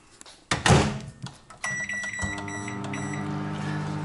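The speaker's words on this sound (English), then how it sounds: "So, that's going in microwave now." A microwave oven heating a chicken and sweetcorn pie starts with a door clunk and button beeps, then settles into a steady close hum with a tonal whine running to the end, no speech.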